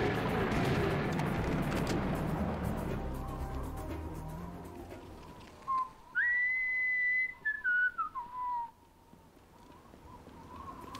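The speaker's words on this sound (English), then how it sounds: "He just whistles along." The player character in Serious Sam First Encounter HD whistles a short, clear tune of several rising and falling notes near the close, after a stretch of low rumbling noise fades away, with no talk.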